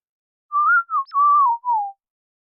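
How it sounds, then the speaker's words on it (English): A whistle voice effect on a Zoom V3 vocal processor: a single whistled melodic line, smooth gliding tones in short phrases, clean and isolated with no other sound around it. "It's the whistle effect."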